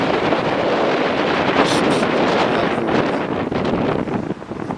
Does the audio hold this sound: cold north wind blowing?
yes